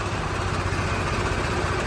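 A Swaraj 855 tractor engine runs with a loud, steady rumble at close range, unchanging throughout, with no voices.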